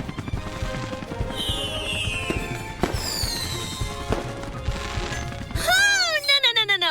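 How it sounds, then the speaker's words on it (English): Cartoon fireworks in an animated children's show: whistling rising shells and several bursting pops, mixed under cheerful music and sound effects, ending in a run of sharp crackling bangs. "Never get too close to fireworks."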